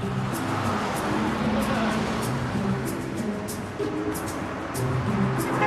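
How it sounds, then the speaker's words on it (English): Road traffic rolls past a busy street corner, a continuous mid-level rumble of car engines and tires with vehicles passing steadily and no single standout event. "The traffic, it's unreal"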